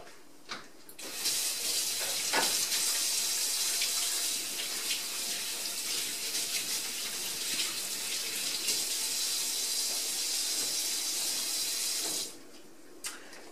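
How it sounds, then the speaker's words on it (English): Tap water runs steadily into a sink while hands are washed, a continuous close hiss lasting over ten seconds before the faucet shuts off near the end. "I'm going to wash my hands and we'll get started."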